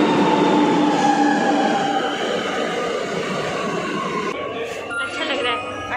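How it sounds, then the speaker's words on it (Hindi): A Lucknow metro train pulls into the station with a steady rumble of wheels on rail that eases as it slows, ending in a few brief squealing tones, while someone talks over it. "हमारा मेट्रो भी आ गया है।"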